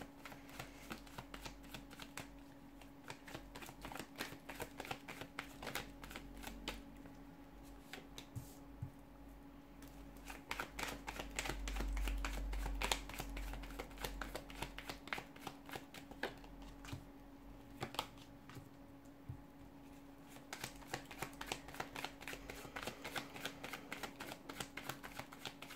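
A deck of tarot cards is shuffled by hand, making soft, fast riffling and flicking sounds that keep going in close, quiet bursts for about twenty-five seconds, with no talking.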